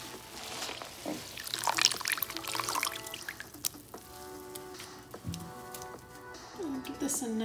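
Liquid dye poured into a container while dyeing a moss pole, a trickling, splashing pour in short bursts, with a voice talking over it.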